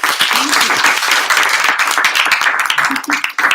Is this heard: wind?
no